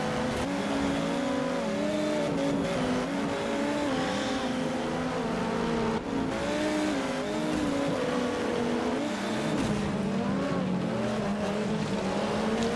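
A badly damaged, nearly totaled race car drives by with a continuous loud engine roar that rises and falls as it revs, steady throughout with no speech.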